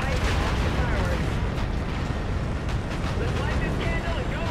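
Tower detonation explosions in the Call of Duty Infinite Warfare video game, a loud, dense rumble of blasts and crackling debris with heavy low-end booms rolling continuously, voices faintly mixed in.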